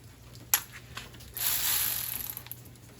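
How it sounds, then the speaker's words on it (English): Milwaukee electric ratchet working on garage door track nuts, a sharp click followed by a short whirring burst of driving, fairly quiet with a low hum in the background. "Milwaukee electric ratchet"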